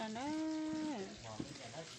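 Food frying in a pan gives a steady, soft sizzle throughout, with a brief clink and a voice humming over the crackle.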